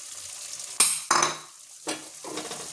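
Tomato paste sautéed with chicken curry spices in a pan: four distinct spatula scrapes and stirs over a soft, close sizzle, with no speech.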